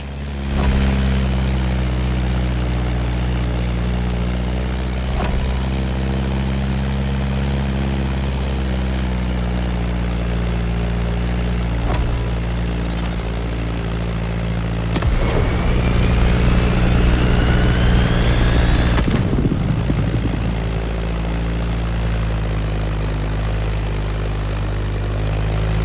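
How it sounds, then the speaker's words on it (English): Beechcraft Staggerwing propeller plane flying in the video game The Crew Motorfest, a loud, steady engine drone with prop hum that continues throughout, with a few brief swells and whooshes. "Beechcraft Stagger Wing is truly a beautiful piece, isn't it? And a great choice for that flight."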